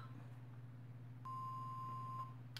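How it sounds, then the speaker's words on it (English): A phone gives a single sustained electronic beep lasting about a second, steady and clear over a low hum, with a short click near the end. "that was the phone."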